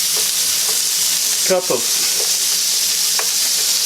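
Peppers and onions fry in butter in a pan, giving a steady, loud sizzle that fills the whole clip, while a voice briefly speaks over it near the middle.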